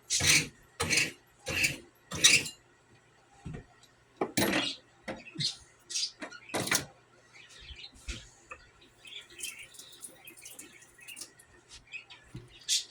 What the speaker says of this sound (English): So what I have to do is sharpening up a knife.